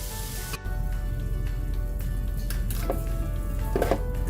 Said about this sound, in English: while the pork continues to brown and cook on the stove